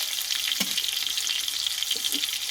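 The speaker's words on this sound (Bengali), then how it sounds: "পটলটা সুন্দরভাবে লাল লাল করে একটু কষিয়ে নিয়েছি" Pointed gourd frying in a pan until reddened, a dense, even sizzle that holds steady throughout with a couple of soft utensil touches, close and fairly loud with no talk.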